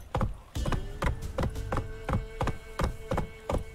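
Horse hooves clip-clop in a steady, evenly paced walking rhythm on a hard surface in The Witcher 3: Wild Hunt, close and clear, about three steps per second with a faint tonal hum beneath.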